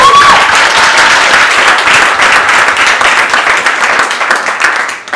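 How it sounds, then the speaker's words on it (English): Loud sustained applause from a dinner crowd at an iftar hosted by a Somali caucus, many hands clapping together close by and fading slightly at the end. "And so please give AK a round of applause"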